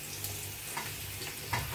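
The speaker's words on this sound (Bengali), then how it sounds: "তো মাথাটা তো মচমচা করে ভাজছি।" Prawn heads frying crisp in a pan of oil, a continuous soft sizzle with a few faint stirring clicks, fairly quiet and without voices.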